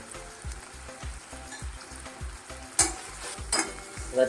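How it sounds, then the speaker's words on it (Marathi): Green chili, asafoetida and turmeric sizzle in hot oil for a tempering for fenugreek greens, with a steady frying hiss under rhythmic, evenly spaced stirring knocks and a couple of sharper clatters near the end. "त्याच्यामध्ये आपण मिरची टाकू त्याच्यानंतर थोडंसं हिंग टाकायचं आहे आणि आपल्याला टाकायचं आहे त्याच्यामध्ये हळद"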